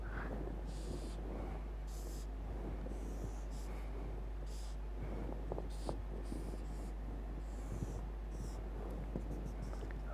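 Chalk or marker sketching a unit cell diagram on a board, a series of faint scratchy strokes in short bursts, with soft breathing and a steady low electrical hum underneath.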